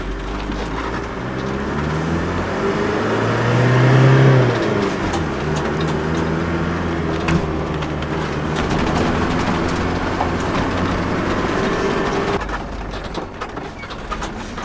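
A 1986 Mercedes Wolf off-road vehicle drives over rough natural terrain, its engine droning steadily with a brief rise in revs and a background rattle and rumble throughout.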